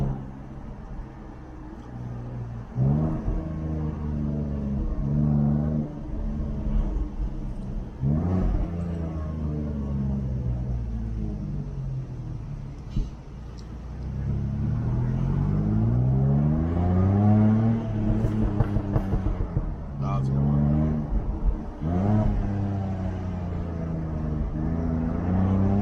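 Exhaust note of a Jaguar F-type on the move, a steady loud rumbling drone with rising and falling revs across the whole stretch and no talk over it.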